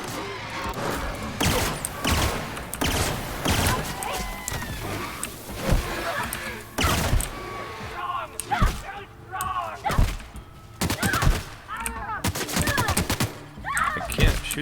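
Gunfire in The Outer Worlds, a rapid series of loud shots and bursts with thuds and whooshes, repeating throughout with a few short gaps.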